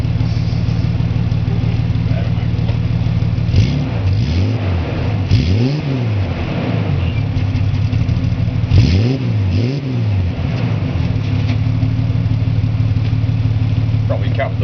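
1992 EB series 2 Ford Falcon engine idling steadily, then revved twice, each rise and fall of engine pitch loud and close, settling back to a rough idle between blips.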